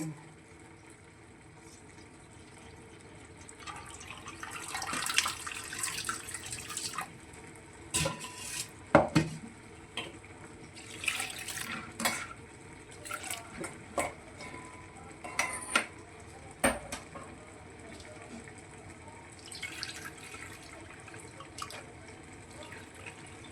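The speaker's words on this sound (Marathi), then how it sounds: "आणि हे पाण्याने धुवून घेऊ" Dried black-eyed peas rinsed with water in a pot before cooking, with repeated clatters and scrapes of the peas and metal and sloshing, running water in uneven bursts close by.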